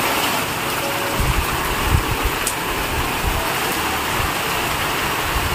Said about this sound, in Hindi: देखो बहुत जोरों से बारिश हो रही है